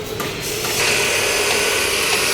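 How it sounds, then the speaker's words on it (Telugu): Machine cutting metal rods at a workshop building a large Ganesh idol, with a steady, loud mechanical grinding and ratcheting whir that holds constant throughout, no speech. "ఇక్కడ రాడ్స్ అనేవి కట్ చేస్తున్నారు. చూడండి, మిషన్ యూజ్ చేసి."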